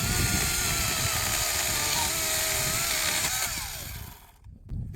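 36-volt dual-battery chainsaw with fast chain speed and a long bar cutting wood, a loud sustained high whine with rattling chain noise that winds down and briefly dips near the end.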